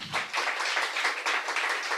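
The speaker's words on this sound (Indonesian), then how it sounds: "Bawa kasih tepuk tangan teman-teman." Audience at a Saturday show in Indonesia giving a round of applause, dense, continuous clapping that holds steady throughout without voices over it.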